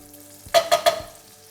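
A cinnamon stick and whole spices sizzle in a hot pan, the crackle rising suddenly and coming in three quick bursts before settling into a faint hiss, with no talking.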